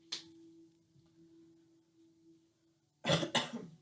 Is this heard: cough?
yes